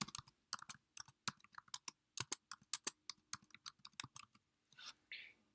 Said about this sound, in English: Then click anywhere on your canvas and type in something.